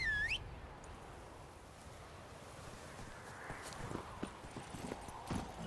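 Horse hooves clip-clopping in The Witcher 3 video game, a brief whistling tone at the start, then a soft steady rhythm of hoofbeats over a wind-like hiss that grows a little louder toward the end.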